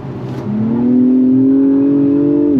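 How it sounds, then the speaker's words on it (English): Engine of a 2025 Acura TLX Type S rising in pitch as the automatic gearbox downshifts with a throttle blip, then holding a steady, loud, close tone from the cabin with no talk. "I don't know if you heard, there was a little bit of a downshift there."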